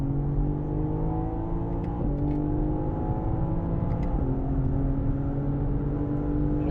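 A BMW M car's engine pulls hard at full throttle on the Sonoma Raceway track, a loud, steady drone that climbs in pitch with a couple of brief gear-change dips along the way.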